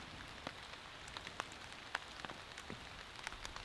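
Freezing rain pattering on a hot tent in near-freezing weather, a soft steady wash of drops with scattered sharper ticks, fairly faint and close, no voices.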